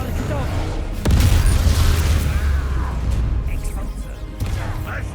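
Confringo spell blasts in Hogwarts Legacy during a troll fight: a loud booming burst lands about a second in, then a sustained rumbling roar of fire and impacts continues under game chatter and shouting.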